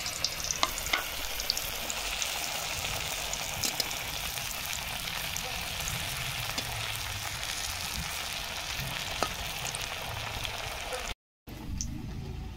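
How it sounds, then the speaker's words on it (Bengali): Battered banana flower chops dropped into hot oil, giving a loud, continuous frying hiss and crackle that holds steady close by, briefly cut off near the end. "এবার তেলের মধ্যে ছেড়ে দেবো।"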